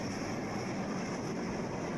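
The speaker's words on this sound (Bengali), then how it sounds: "ঢাকাগামী ট্রেনটি ছেড়ে চলে গেল আমাদেরকে" A Dhaka-bound passenger train departs and rumbles past with a low, continuous roar and faint rhythmic rail noise, no voices.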